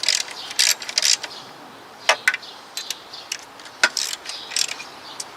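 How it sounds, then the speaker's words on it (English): A hand ratchet clicks in quick bursts while tightening bolts on the starter motor of a ninth-generation Toyota Corolla, the sharp metallic ticks coming in short irregular runs at close range, with no talk. "I like to tighten everything up snug and then come back for the final tightening."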